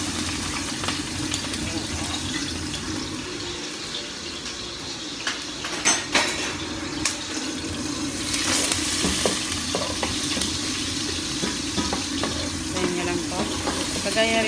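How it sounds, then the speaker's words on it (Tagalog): Garlic and onion sautéing in a little oil in a cooking pot, a steady close sizzle and crackle with occasional stirring scrapes and a brief louder burst partway through. "maglagay ng mantika, konting mantika sa kaldero, gigisahin yung bawang at sibuyas"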